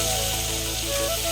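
Chopped tomatoes frying in a pan over onions for a fish curry, giving a steady close sizzle and hiss that carries on without a break for the whole moment, with no talk over it.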